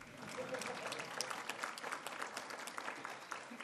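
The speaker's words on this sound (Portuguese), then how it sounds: "Podem aplaudir." A room full of people claps steadily at a formal legal award ceremony, dense applause sustained for a few seconds without pause.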